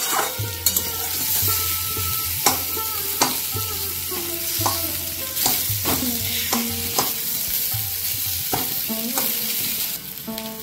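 Boiled potatoes are stirred in a hot wok, a steady oily sizzle broken by repeated sharp scrapes and knocks of the spatula against the metal, close and fairly loud with no talking.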